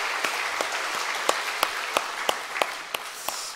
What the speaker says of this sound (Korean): 우리 한번 축복의 박수 한번 부탁합시다.